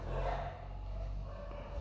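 Dogs barking late at night, a low, steady rumble of barks and growls persisting throughout at moderate distance with no talk over it.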